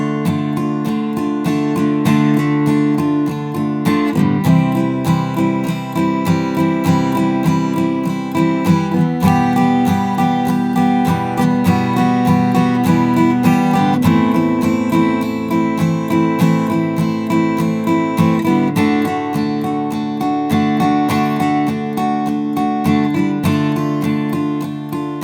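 Guitar plays the solo section of a song, with steady, loud, continuous melodic lines over sustained chords for about twenty-five seconds, with no talking.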